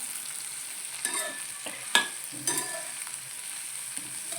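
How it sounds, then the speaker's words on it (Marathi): Eggplant and onion sizzle frying in a hot pan while a spoon scrapes and stirs a few times, with a couple of sharper clinks. "मिठाने कवलं म्हणजे पटकन असं चटपट भाजलं जातं"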